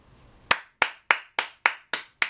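Seven sharp, evenly spaced hand claps from a single person, close and crisp, each with a quick decay into silence after a brief quiet start.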